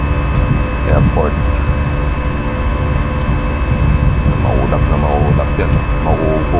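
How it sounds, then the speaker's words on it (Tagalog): A steady, loud airplane cabin roar during flight through clouds, a constant broadband hum with faint voices murmuring underneath. "Nalulupak yung aeroplano pag dumadaon sa ulap"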